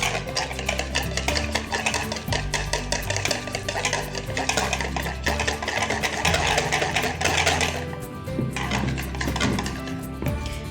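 An electric hand mixer blending yogurt whirs continuously and loudly, its motor droning with rattling, clicking texture as it blends.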